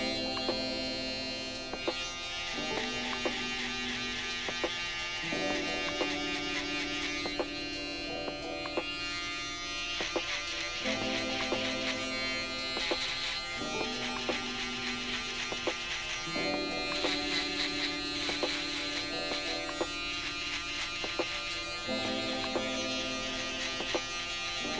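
An electric hair clipper buzzes steadily, cutting a low fade at a barbershop, with a constant drone that shifts pitch as it works, starting and stopping in repeated strokes against the head.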